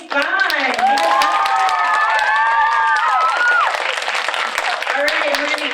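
Audience at a high school poetry slam claps and cheers loudly and steadily, with excited shouts and whoops rising over the applause throughout.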